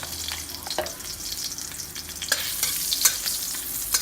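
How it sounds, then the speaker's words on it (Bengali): Potatoes frying in oil with turmeric for a Bengali chicken curry, a steady close sizzle with scraping stir strokes that come more often toward the end. "আলুটা একটু হালকা ভেজে,"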